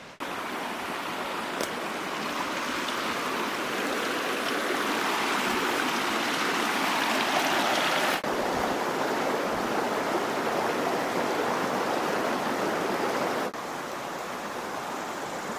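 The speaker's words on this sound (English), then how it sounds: "And the creek is right down there." A creek rushes steadily beside a campsite in Montana, a loud, continuous broadband wash of flowing water that fills the whole stretch without a break.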